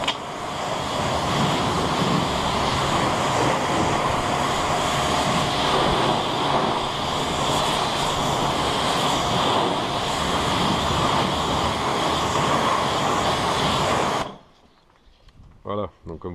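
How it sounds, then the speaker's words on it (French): A Karcher pressure washer sprays the engine compartment of a Toyota Prius 3 in a loud, steady broadband hiss lasting about fourteen seconds, then cuts off abruptly, leaving faint background noise. "je le fais au Karcher, ça peut se faire au tuyau d'arrosage tout simple"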